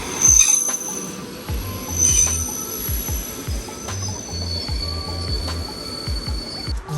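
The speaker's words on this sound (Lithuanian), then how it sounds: "Dabar laukiam traukinio va." A train arrives at a station near Riga, Latvia, its wheels squealing in repeated sharp screeches over a rolling clickety-clack rumble, loud and close throughout.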